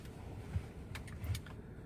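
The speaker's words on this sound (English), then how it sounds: "so if you hear the car running" A parked car idles in freezing 5-degree weather, its engine a faint, steady low rumble running throughout with no talking.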